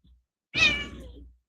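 A domestic cat lets out a single loud, close meow that rises and then trails off, with a faint low thump just before it and no voices.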